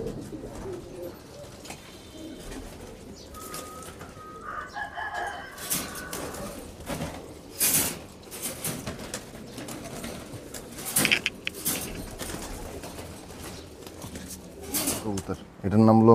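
Pakistani Teddy pigeons coo softly in a loft, with low, intermittent calls, rustling and scattered clicks and knocks, while people talk nearby throughout.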